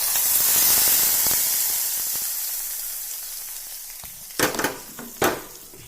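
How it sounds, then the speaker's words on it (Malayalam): A hot tempering poured into pumpkin pachadi curry sizzles loudly at first, then the hiss fades away, with a few sharp clatters and spatters near the end. "ഈ താളിപ്പ് നമുക്ക് കറിയിലേക്ക് ചേർത്ത് കൊടുക്കാം."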